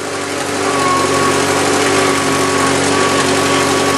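Farmall C tractor engine running steadily and loud up close during a ride across a field, a continuous even idle-like drone with a low pulsing rhythm throughout.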